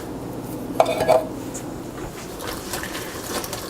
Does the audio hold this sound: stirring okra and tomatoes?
yes